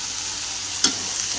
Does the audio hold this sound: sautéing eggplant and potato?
yes